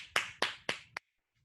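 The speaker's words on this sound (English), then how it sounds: "please, another round of applause" A few people clap for the judges of an online startup pitch competition: four sharp, evenly spaced claps, close and moderately loud, then silence.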